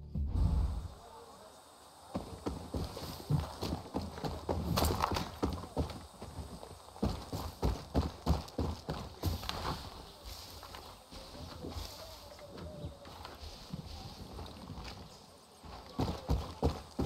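Horse hooves clip-clop in steady walking rhythm in the video game Far Cry 6, close and fairly loud, with occasional snorts and a brief whinny and light ambient sound between hoofbeats.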